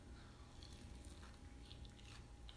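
Crunchy breadcrumb-coated food seasoned with salt, pepper, sage and herbes de Provence being bitten and chewed up close, a faint, quiet run of crisp crunches and mouth sounds over low background noise, with no talking.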